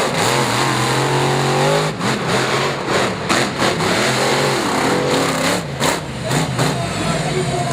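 Racing trucks roar around Bristol Motor Speedway in Bristol, Tennessee, with loud, sustained engine drone and rising and falling revs as they pass close by.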